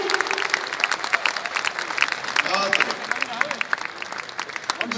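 Audience applause at a Hindi poetry recital (kavi sammelan), a crowd clapping steadily and densely for several seconds, with voices mixed in.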